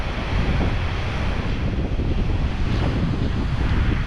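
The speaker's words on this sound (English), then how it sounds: "The falls are so loud." Sutherland Falls, New Zealand's highest waterfall, roars in a constant, loud, broadband rush close by, like a jet overhead, with heavy spray and wind buffeting the microphone throughout.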